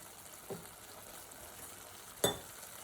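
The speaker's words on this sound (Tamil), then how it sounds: "இப்போ இதில் தேங்காய் பால் ஊற்றிக்கிறேன்." Coconut milk goes into a pan of sizzling tomato gravy for a Tamil kootu. A faint, soft sizzle is broken by two brief stirring scrapes, quiet and close, with no talking.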